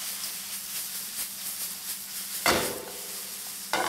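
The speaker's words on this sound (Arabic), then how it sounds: "عم نقلب" Wild mushrooms with rosemary stirred in a pan, giving a steady soft sizzle with faint scraping, then two louder bursts of frying hiss as the mixture is turned.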